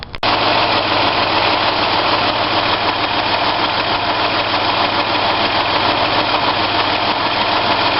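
2003 Ford Escape engine idling with a misfire, a dense steady drone heard up close and uninterrupted after a brief click at the start.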